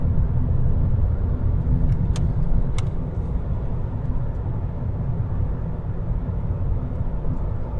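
A car cruising fast on a German country road with no speed limit, around 140 km/h, gives a steady, loud engine and road rumble throughout with constant wind noise and no talk.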